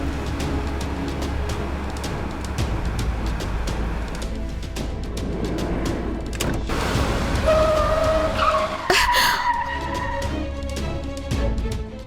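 In a Telugu TV serial scene, a car races along a road, then its tyres squeal in a long, loud skid as it stops across the road, over constant engine and road noise.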